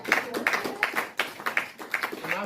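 Audience clapping after a dog's card trick at a magic show, a run of close, uneven claps of modest loudness with some talk mixed in.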